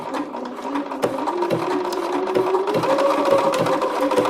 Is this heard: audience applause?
no